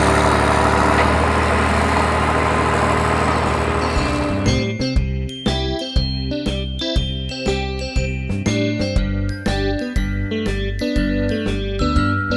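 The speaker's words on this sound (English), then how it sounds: "Tractor with sugar beet harvester." Tractor pulling a sugar beet harvester, a steady engine drone for the first few seconds that gives way to rhythmic mechanical clatter and tonal knocks repeating at an even pace, loud and close with no talk.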